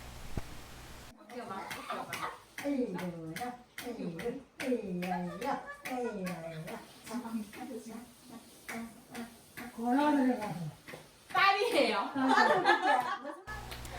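Hands clap in a quick run of sharp claps at a family party for an 85-year-old great-grandmother, mixed with a child's chatter and adult voices singing and talking nearby.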